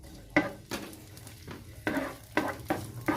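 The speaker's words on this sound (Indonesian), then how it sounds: "Kita tumis bawang bombay sama bawang putihnya sampai harum." Onion and garlic are being sautéed in a pan for a bolognese pasta sauce, with a spoon stirring in a series of short scraping strokes over a soft sizzle.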